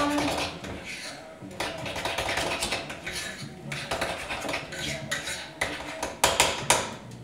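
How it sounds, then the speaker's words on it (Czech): A spoon clinks and scrapes against the side of a cup while stirring a sweetened drink flavoured with banana flavour drops, a steady run of close, bright metallic taps with a few sharper knocks near the end, under a soft voice. "Takže tady si to zamíchám."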